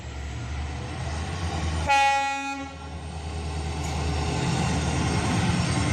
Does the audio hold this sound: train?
yes